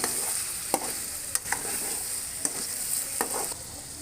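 A spoon scrapes and clacks at intervals against a pan while ridge gourd (tori) sabzi is stirred, over a steady sizzle of frying, close and alone without talk.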